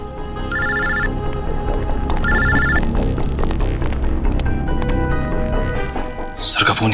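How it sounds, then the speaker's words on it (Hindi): An unanswered mobile phone lies ringing in a tense crime-drama scene, two bright electronic ring bursts sounding over a dense, throbbing background of music and low hum. "सर फोन उठाइए।"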